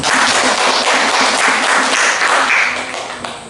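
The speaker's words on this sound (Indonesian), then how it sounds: "Tepuk tangan buat dia ya" A classroom of students breaks into loud, brisk applause, with the dense clapping fading gradually over a few seconds.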